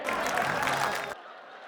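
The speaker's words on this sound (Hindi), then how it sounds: "तालियां थोड़ी बजा रहे हो" An audience at a Hindi comic poetry show gives a brief burst of applause, a dense wash of clapping that cuts off abruptly after about a second, leaving faint room tone.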